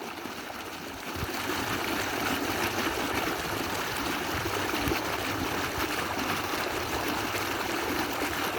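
Water gushes steadily from a burst pipe, a dense continuous rushing spray that rises after the first second and holds loud and close, with no talk over it.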